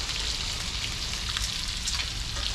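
Stingray pieces fry in a hot pan with a steady, close crackling sizzle that runs continuously and evenly throughout, unbroken by speech.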